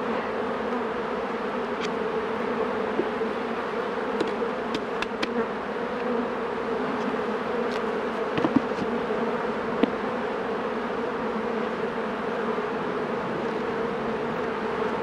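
Honey bees drone in a dense, continuous buzz around an opened, heavily populated hive, steady and moderately close, with a few faint clicks and knocks scattered over the hum and no talking.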